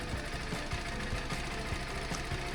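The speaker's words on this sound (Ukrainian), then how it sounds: "Трохи прогріваю двигун і слухаю, як працюють клапани на холодну" A cold motorcycle engine warming up idles steadily, its valves making a rapid mechanical ticking through the constant, close rumble.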